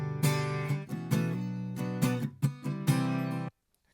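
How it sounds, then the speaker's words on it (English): A guitar recorded with a single microphone on a mono track plays a run of strummed chords, each ringing out before the next, closing with a sustained chord that cuts off abruptly. "So it's just recorded the guitar with a single mic,"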